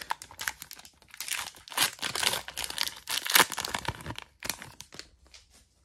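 Crinkling foil and tearing as a Pokémon Paldea Evolved booster pack is ripped open up close, in bursts of crackling wrapper noise with brief pauses between.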